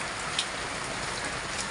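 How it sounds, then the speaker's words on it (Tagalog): Steady rain falls in a soft, even hiss, with occasional individual drops pattering nearby. "Nag-uulan-ulan."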